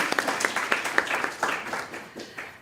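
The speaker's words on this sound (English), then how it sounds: "Oh, yes, we'll clap on that." A small panel audience claps, rhythmic at first and then looser, fading toward the end.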